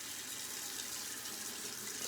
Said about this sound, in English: I have hot water on.